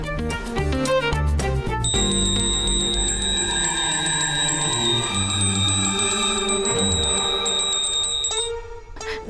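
A small hand bell rings continuously with a bright, sustained metallic tone, sounding loud and close amid a busy musical background.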